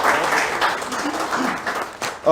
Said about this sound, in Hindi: मैं एक बार चाहूंगा तालियों के साथ उनका तह तक में स्वागत किया जाए